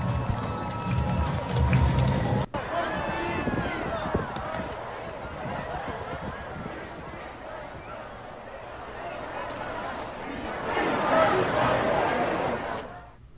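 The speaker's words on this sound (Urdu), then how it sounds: "اسرائیلی قونصل خانے میں تمام مظاہرین جمع ہوئے اور فری پیلسٹینین کے نعرے لگائے" Crowd of protesters gathered outside the Israeli consulate in Boston, a dense mass of voices chanting slogans with rhythmic swells that grow louder toward the end, heard from within the crowd.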